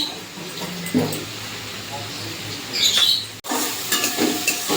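Chilli stir-fried with taro stolons in a pan, a soft continuous sizzle broken by scraping spatula strokes and a clatter near the end, with a voice talking over parts of it.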